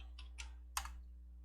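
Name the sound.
typing on a computer keyboard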